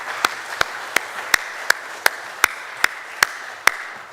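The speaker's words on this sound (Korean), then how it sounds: "다시 한번 박수를 경장하면 좋겠습니다" A church congregation applauds the choir with sharp, evenly spaced claps in a steady rhythm, about three per second, over a softer bed of scattered clapping.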